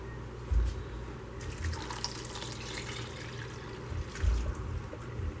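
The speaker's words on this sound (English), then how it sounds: "to this we're going to cover with cold water" Cold water running from a tap into a container of chopped vegetables for sweet relish, a quiet steady splashing trickle with a couple of low thumps, close and alone.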